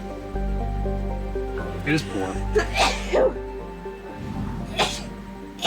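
A person sneezes once amid a conversation, a short burst near the middle followed by more talk over a steady electronic hum.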